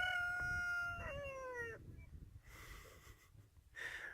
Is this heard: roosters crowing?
yes